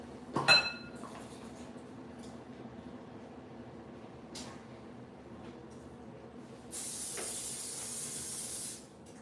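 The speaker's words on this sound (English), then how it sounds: "So I'm gonna spray the bowl." A steady hiss from a can of cooking spray coating a bowl for bread dough lasts about two seconds near the end, preceded by a faint clink and light handling noises.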